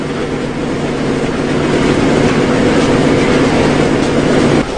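A passenger train in winter rumbles along the rails at steady speed toward Cheorwon, Gangwon Province, a loud continuous roar with faint rhythmic clatter, heard from inside the carriage.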